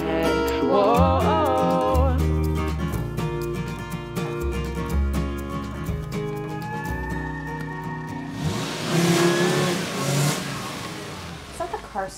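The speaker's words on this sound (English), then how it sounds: "Is that the car starting?" A car engine starts up and revs inside a garage, its rising, surging roar blended with a loud, busy music score, and a burst of noise near the end.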